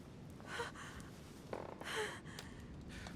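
A woman's shallow, uneven breaths in The Council, quiet and close, with a few sharper gasping inhales standing out among softer exhales.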